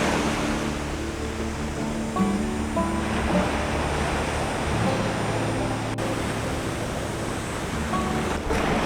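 Surf rolls in steadily at Paso Beach in Sayulita, Mexico, on a hot summer day, a broad continuous wash of breaking waves with some wind rumble against the microphone and no talking.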